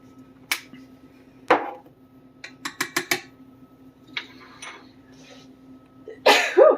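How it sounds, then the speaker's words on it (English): A sharp sneeze bursts out near the end, preceded by scattered clinks and taps of kitchen utensils while making ginger snap cookies, and a soft sniff or cough earlier. "Got the sneezes."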